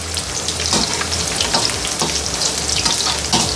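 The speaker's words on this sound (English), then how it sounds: "keep on frying the potatoes and onion together." Potatoes and onion sizzle loudly in a hot pan while cooking on high for a lamb biryani, a close, crackling fry with scraping stirs recurring at a steady rhythm and no voices.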